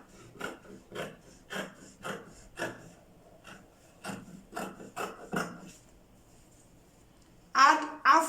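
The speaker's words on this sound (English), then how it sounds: "I'm cutting the back neckline first." Scissors cut fabric along a dress's back neckline in a series of short, close rasping snips with pauses between, and a breathy sound near the end.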